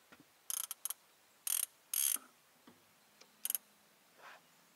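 Fishing reel with its clicker engaged ratchets in several short bursts of rapid ticking, moderately close, with quiet gaps and a few faint isolated clicks in between, no talking.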